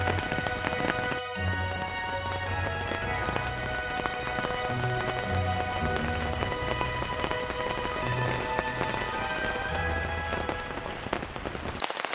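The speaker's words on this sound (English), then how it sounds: "It just won't stop raining." Steady rain pattering on a tarp and leaves over a hammock camp in woodland, a dense continuous hiss of drops with occasional heavier drips, close and unbroken throughout.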